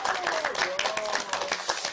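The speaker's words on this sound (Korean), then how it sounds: "박수 한번 해주세요." A studio audience at a Korean church Bible class claps briefly on cue, a quick scatter of distinct hand claps with a voice speaking over them.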